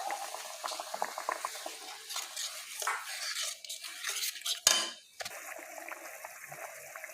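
Water poured into a pot of fried spiced masala for curry, hissing and bubbling as it starts to simmer, with a sharp sizzling burst near the end, close and alone.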